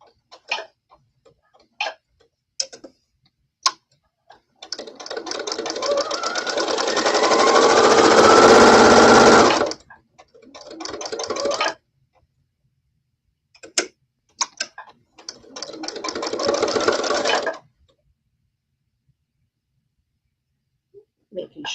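A sewing machine stitches a back tack along a seam, with a long steady whirring run and shorter bursts between scattered clicks and ticks in a quiet room.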